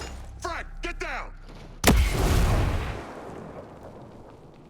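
A voice shouts briefly, then a single heavy frag grenade blast erupts in the Ghost Recon Breakpoint shooter game. The loud boom rolls into a long, fading rumble of debris and echo.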